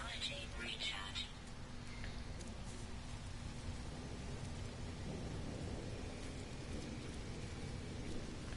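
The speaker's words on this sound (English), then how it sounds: "Weather update. Storm clearing." A storm of rain and thunder rolls across a barren or toxic alien planet in No Man's Sky, a quiet, steady rainy hiss with low rumbling beneath, while a voice talks over it.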